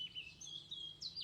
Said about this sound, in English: You can hear the beautiful sound of the blackbird here where I am.